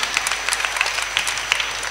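Children clap together at a Catholic youth Lenten retreat, a brief, even patter of many small hands that carries steadily for about two seconds at moderate level.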